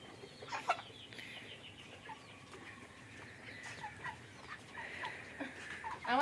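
Chickens cluck and call on a village poultry farm, scattered short notes near and farther off, one loud squawk near the end, over quiet outdoor ambience with no talking.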